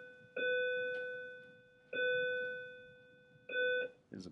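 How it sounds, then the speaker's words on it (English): A bell rings three times at steady intervals in a classroom lesson on drawing nets for surface area and volume, each clear ding sustaining and fading before the next strike, with no talk over it. "is a bell telling us it's time to draw the net"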